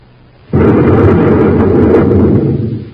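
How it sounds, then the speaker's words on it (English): A space grenade explosion staged as a radio drama sound effect: one loud, close blast that bursts in suddenly and roars on as a sustained rumble before slowly fading. "Smoking rockets, what was that? A space grenade."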